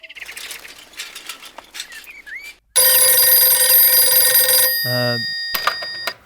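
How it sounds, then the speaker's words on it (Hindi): A telephone rings with a loud, sustained electronic bell tone that cuts in suddenly after softer bird-like chirps and background sounds, then shifts pitch before fading into other noise. "हाँ कार्तिक, फोन।"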